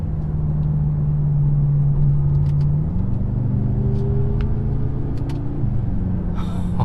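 A BMW M6 Gran Coupe engine drones loudly and steadily while driving at speed, its low tone dropping in pitch partway through as if shifting gear, with no talking.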